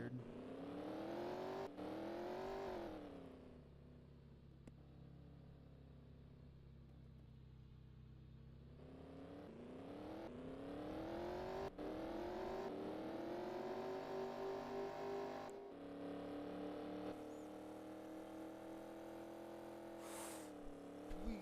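A hypercar engine in a driving video game revs and roars, rising and falling in pitch through several accelerations, loud and steady with no talking over it.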